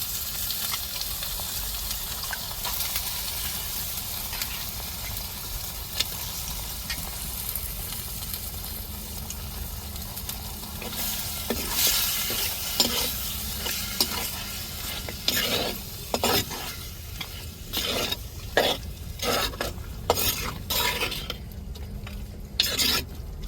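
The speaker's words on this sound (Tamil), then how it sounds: "இப்போ தாளிப்பில் நம்ம அப்படியே மட்டன் கறி அள்ளி போட்டுருவோம் நல்லா வேக விட்டுருவோம்" Mutton curry tossed into a hot tempering fries and is stirred, a low steady sizzle giving way to repeated loud scraping stirs and bursts of crackle in the second half.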